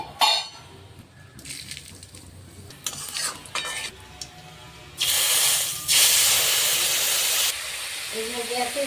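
Bay leaf, dried chilli and panch phoron hitting hot oil for a Bengali shukto, bursts of loud hissing sizzle alternating with quieter stretches, clinks of a utensil against the pan and stirring scrapes.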